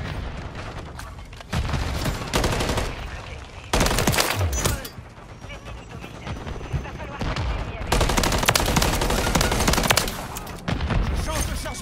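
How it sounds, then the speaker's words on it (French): Sustained automatic gunfire and bursts in Modern Warfare 3, loud and dense across the whole stretch, with rapid rattling volleys, brief pauses and booming impacts, fighting noise mixed throughout. "J'essuie les tirs!"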